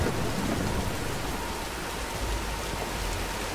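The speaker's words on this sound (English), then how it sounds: "Nah, let's wait out the storm." Steady, loud rain with rumbling thunder in a Tomb Raider storm scene on PC, a dense continuous wash of noise with no voices.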